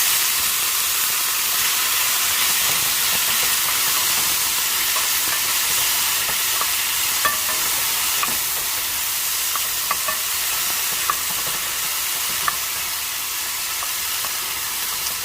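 Mushrooms and mixed vegetables with onion sizzle steadily in a hot pan as they are stirred, with a constant hissing fry broken by light scraping clicks.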